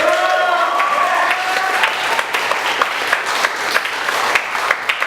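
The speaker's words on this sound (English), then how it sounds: "give a round of applause to Brian for making this possible" A convention crowd at the Valhallcon 2014 closing ceremony in Columbia, SC applauds Brian with sustained, dense clapping, a brief whooping cheer rising over it at the start, and individual claps popping out as it continues.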